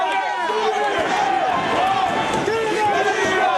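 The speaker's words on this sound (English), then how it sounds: "And this crowd has gone bonkers for CM Punk" A wrestling crowd in Chicago cheers wildly for CM Punk, a steady roaring wall of arena noise throughout, with a commentator talking over it.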